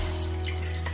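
Water pours steadily into a cooking pot for making a rice-flour dough for steamed modak, a continuous splashing stream over a low hum.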